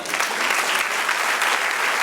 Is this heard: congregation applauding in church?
yes